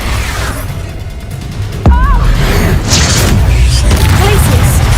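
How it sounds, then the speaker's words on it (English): A booming magical blast from the Expulso explosion spell in a Harry Potter video game hits sharply about two seconds in and leaves a loud rumbling, crackling tail over steady game noise. "Expulso!"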